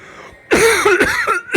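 A single person coughs close to the microphone in a quiet room, a short harsh burst followed by a second brief cough.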